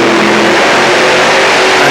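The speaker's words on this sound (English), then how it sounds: "3 RS engines, normally used in drag racing" A tractor-pulling vehicle fitted with three RS drag racing engines roars loud and close, a dense, sustained high-revving engine blare with no let-up across the stretch.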